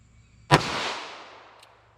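A single sharp handgun shot from a hand-loaded .32 H&R Magnum or .38 Special round, loud and close, its crack ringing out in a decaying echo over about a second and a half, with no talking.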